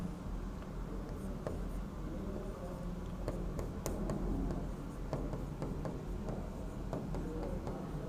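Chalk or marker writes out a chemistry reaction product on a board in a classroom, a faint run of scratchy strokes and taps over a low room hum.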